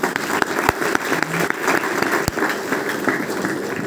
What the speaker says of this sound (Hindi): जोरदार ताली, जोरदार।